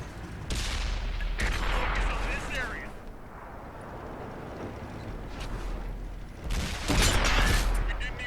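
High-explosive rounds fired from a tank cannon in World of Tanks, several heavy booming blasts spaced apart over a constant engine rumble, with someone talking over them.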